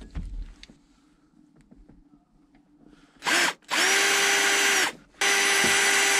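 A power drill bores a hole for a DIY drifting handbrake in a car, starting after quiet handling noises with a short burst, then two long loud whining runs with brief pauses between.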